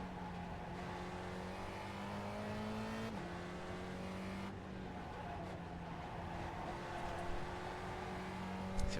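Spec Racer Ford race car at Mid-Ohio, its engine droning steadily on partial throttle with a sustained close tonal hum that dips and recovers slightly midway, running continuously without speech.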